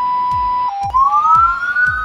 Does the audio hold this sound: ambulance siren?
yes